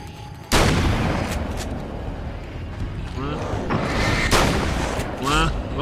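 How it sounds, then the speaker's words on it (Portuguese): Gunfire from shooting enemies in the video game Alan Wake's American Nightmare, a dense, loud run of shots and booms that goes on without a break, with a voice talking excitedly over it. "Vamos, atira nele! Atira! E nesse aí também!"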